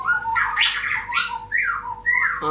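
A murai batu (white-rumped shama) with a black, damaged tail, calling with loud, close, sweeping whistled squawks in several rising and falling phrases.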